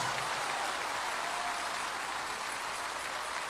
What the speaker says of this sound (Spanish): dele ese aplauso de gloria a Dios